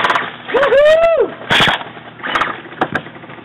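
Airsoft guns fire during an outdoor base defense game, a few sharp snapping shots in quick succession, loud and nearby, mixed with shouting and a whooping voice.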